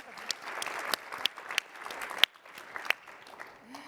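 Sparse, scattered claps from a conference session audience, a few sharp isolated hand claps over a quiet room rather than a full round of applause.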